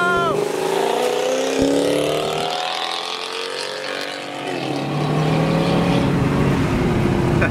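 Car pulling away hard at an underground car meet street race, engine note rising in pitch through the gears, loud and close at first, easing then swelling again.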